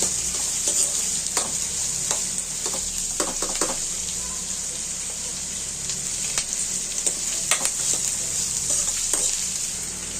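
Chicken curry sizzles and fries in a pan while being stirred, with a steady hiss and repeated sharp scraping and clinking of the spoon against the pan over several seconds.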